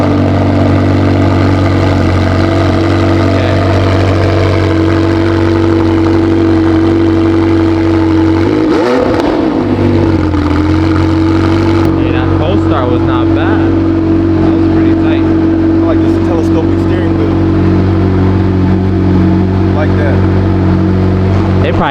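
A 2022 McLaren 720S Performance cold starts around the nine-second mark with a loud burst, then settles into a steady, rumbling high idle that runs on at close range, with voices talking over it.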